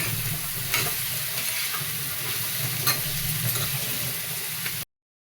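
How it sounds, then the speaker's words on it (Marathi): Onion being sautéed in an iron pan, a steady close sizzle with occasional scraping stirs, ending abruptly in silence. "हे बघा आता आपला कांदा परतून झालाय लालसर झालाय"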